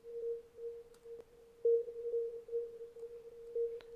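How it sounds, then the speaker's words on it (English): A reverberated sine-wave hit from an electronic remix plays as a steady pure tone that repeats in short pulses, with auto panning, brief clicks and faint tails, and no voices. "I've got this kind of like sine wave reverberated hit, some auto panning"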